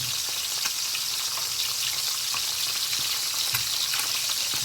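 Tilapia fish frying in hot oil, a steady, dense sizzle and crackle that stays loud and close throughout with no talking.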